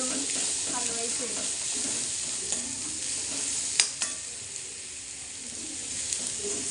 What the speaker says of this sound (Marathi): चांगल्या प्रकारे तळून द्यायचं आहे म्हणजे भाजीला चव चांगली येते